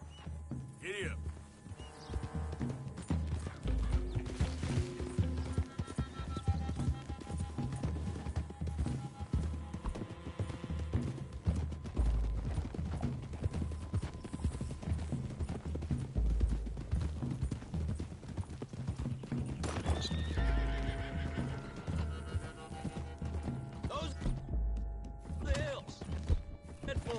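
Rapid hoofbeats from a video-game horse clip-clop steadily through most of the stretch, with a brief whinny near the start and talk and game noise layered over the galloping.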